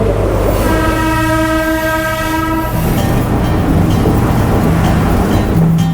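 At a railway station near Colombo, Sri Lanka, a train sounds a long, loud horn blast over the heavy rumble of rolling wagons, then the rumbling carries on alone.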